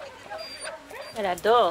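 A greyhound whimpers and gives a few small yips while a person speaks over it, close by.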